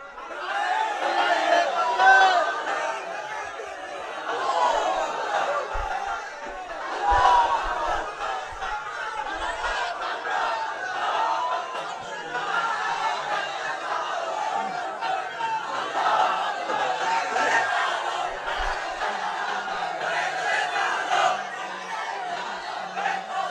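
A large crowd at a religious gathering in Bangladesh chanting slogans in unison, a steady roar of many voices with rhythmic surges that carries on for the whole stretch.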